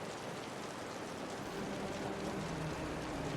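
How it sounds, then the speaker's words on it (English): Steady video game rain hisses as an even wash of noise with no distinct drops standing out, fairly soft and unbroken for a few seconds. "The rain's getting heavier."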